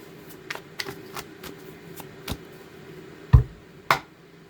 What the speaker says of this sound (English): Get a good shuffle.